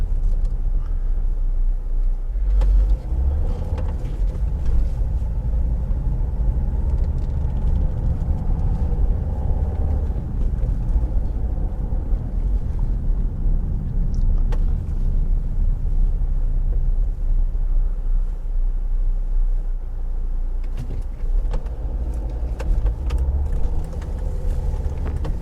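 A car drives through central London streets near Victoria Station, its steady engine rumble and road noise filling the cabin continuously and close, with occasional faint clunks and passing traffic.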